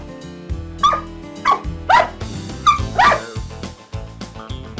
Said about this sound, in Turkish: havla havla da Nermin gelip camdan aşağı atsın seni